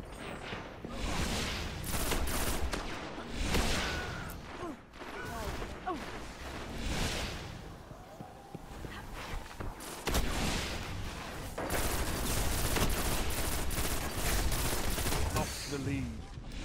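Rapid gunfire from the Destiny Crucible multiplayer video game rattles through steadily, with bursts and single shots mixed with game effects while players talk over the action.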